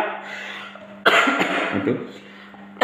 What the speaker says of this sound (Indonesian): Bahkan batuk-batuk pun keluar dari channel.